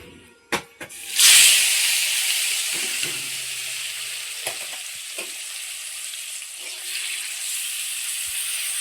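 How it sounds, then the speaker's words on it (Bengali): Prawns frying in hot oil in a heated kadai give a sharp burst of sizzle as they hit the pan, followed by a steady, close hiss with a few scattered clinks. "এদিকে আমি চিংড়ি ভাজাটা বসিয়ে দিয়েছি"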